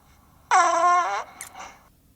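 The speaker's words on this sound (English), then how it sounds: "this is fart number 540, the Tony Hawk Special Edition" Fart sound from an NFT collection, a Tony Hawk Special Edition: one loud, buzzy, tonal blast lasting under a second, followed by a brief sputtering tail, alone with no talking.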